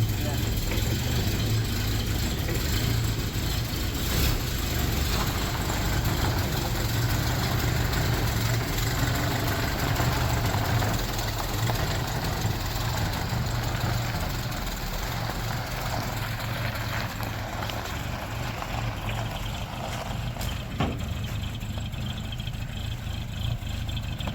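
An old Toyota engine idles after a clutch adjustment, a steady low rumble running throughout, slightly uneven as if struggling, with people talking over it.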